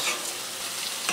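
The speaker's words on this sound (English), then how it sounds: "All right, we wanna sear these up." Chicken sears in a hot pan after being flipped, giving a dense, loud, unbroken sizzle with a faint scrape at the end.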